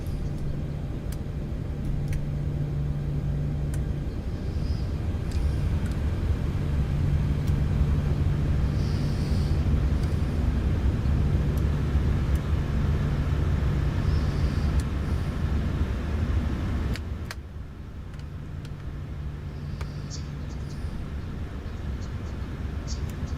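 A steady, droning aircraft engine rumble with a low hum before taxi, heard from inside the cockpit. It is continuous and fairly loud, with small ticks and a drop in level near the end.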